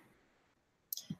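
A single sharp mouse click sounds near the end, close and crisp, followed by a soft thump, after near silence.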